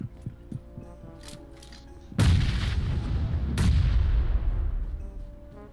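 Two heavy bomb blasts in the mobile battle-royale game PUBG Mobile, each a sudden loud boom trailing into a long low rumble, preceded by a few faint clicks and thumps.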